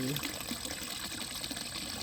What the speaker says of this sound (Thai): ชอบฟังเสียงน้ำไหล